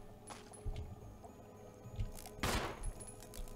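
Gunfire in a video game aimed at a beast creature, a few sharp shots over a steady low background hum, one burst louder than the rest, no talking.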